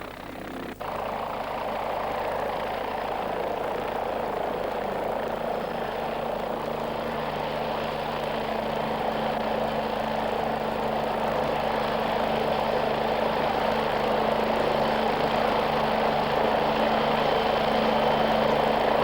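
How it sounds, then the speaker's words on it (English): A PAH-1 combat helicopter flies on to a new firing position against tanks, its engine and rotor giving a steady, fairly loud drone that holds unbroken throughout with no voices. "The helicopter then moves on to another position to tackle another tank."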